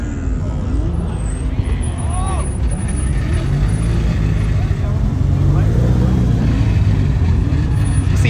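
Cars pull away from a Caffeine and Octane car meet, with a constant loud rumble of engines and tire noise, rising and falling revs as vehicles pass close by, while people chatter in the background.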